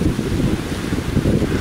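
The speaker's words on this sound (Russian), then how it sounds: "но честно скажу, слишком ветрено" Strong wind buffets the microphone on a sandy beach in western Crimea, a continuous loud low rumble with gusts that swell near the end, surf faintly mixed underneath.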